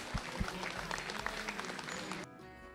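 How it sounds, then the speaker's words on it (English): Sustained applause from the crowd at a poultry judging during a youth livestock show, a steady wash of clapping for a little over two seconds that stops abruptly near the end. "big round of applause."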